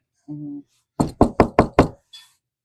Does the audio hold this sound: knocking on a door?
yes